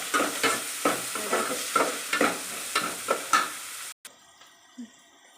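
Onions fry in a pan with a steady crackling sizzle, punctuated by rhythmic stirring strokes about every half second, close and fairly loud, then the frying cuts off abruptly to near silence with a faint knock, no talk.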